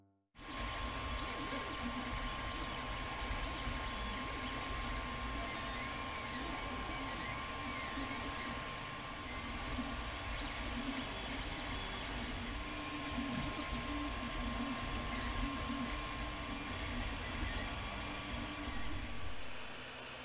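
A 3D printer runs steadily and fairly quietly, a continuous mechanical whir with a thin constant tone, with no talk.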